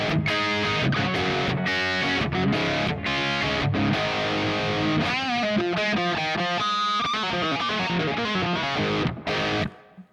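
Electric guitar through a Kemper profiler on a Silver Jubilee amp tone, loud and distorted, with chords and riffs played continuously before ringing out abruptly near the end, alone with no talking.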